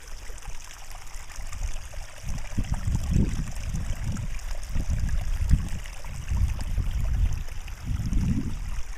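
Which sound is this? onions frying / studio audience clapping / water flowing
water flowing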